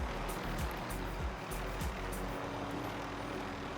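A helicopter flies in Call of Duty Warzone, its engine and rotor making a steady, loud low drone that carries on throughout with no talking.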